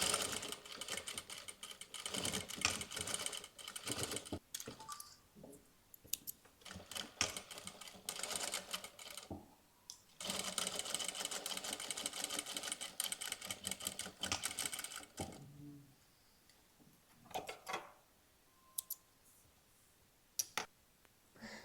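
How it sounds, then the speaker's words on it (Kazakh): A sewing machine stitching a basic sweater, rapid mechanical clicking and whirring in bursts with pauses between, fairly quiet and close, with no speech. "Осы екі аралықты тігіп келеміз."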